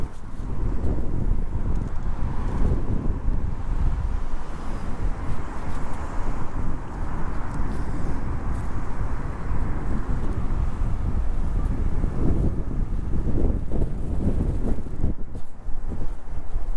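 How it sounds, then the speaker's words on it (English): Strong wind buffets the microphone beside a giant river, a loud, continuous low rumble with gusting swells that lasts throughout, with no voices over it. "It's very windy. Very, very windy."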